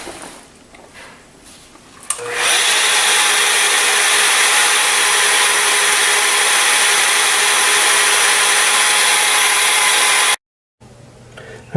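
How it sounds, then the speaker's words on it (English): A polisher fitted with a number 4 blue Quartz Renew pad works a quartz surface, a loud, steady high-pitched whir that starts abruptly after a quieter lead-in and runs continuously for about eight seconds before cutting off. "we finished our 4 steps with the Quartz Renew polishing pads"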